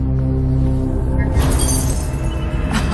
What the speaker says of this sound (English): I'm breaking glass because you're gonna need it for your next stunt.